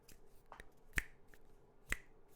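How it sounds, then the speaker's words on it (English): Two sharp, isolated finger snaps ring out close and clear over near silence, spaced about a second apart to set a tempo during a guitar lesson. "snap my fingers like this"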